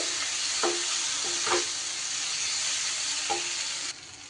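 Ginger-garlic paste with green chilli hits hot frying ground spices, giving a steady close sizzle with a few soft stirring scrapes, the hiss easing slightly near the end.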